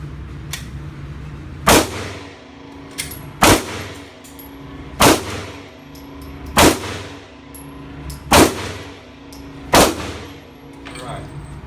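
Pistol firing rounds at a range during a Targetize training sensor test, six loud, sharp gunshots at even intervals of roughly a second and a half, each with a ringing tail, with no talking.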